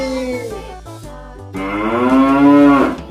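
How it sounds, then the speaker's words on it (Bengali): A cow stands with its calf and lets out a loud, drawn-out moo close by that rises and swells toward the end, heard over a steady background tune. "গরু বাছুর দাঁড়িয়ে আছে"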